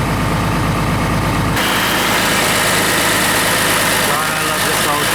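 A Hino bus diesel engine idles loud and close after a starter replacement, a steady low rumbling chug with a rough mechanical clatter, and a voice speaks over it.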